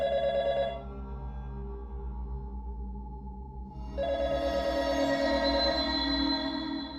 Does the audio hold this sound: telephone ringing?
yes